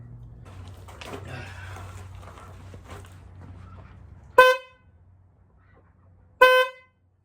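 Two short, loud honks from a PIAA aftermarket horn on a Subaru Sambar, about two seconds apart, each a bright buzzy blast, following a stretch of quiet background noise and faint rustling.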